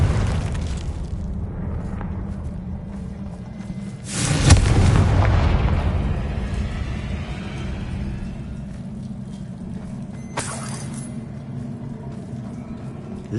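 Two fiery Confringo blast spells from the Hogwarts Legacy video game: a loud broadband explosion bursts about a third of the way in and rumbles away slowly, then a shorter, sharper blast lands later over a steady low game-ambience hum.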